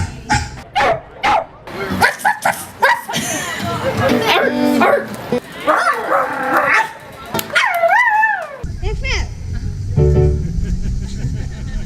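People at a lively event take part in a human barking contest, taking turns imitating a dog with barks, yips and whimpers. The bursts are loud and close, with crowd babble and talk in between.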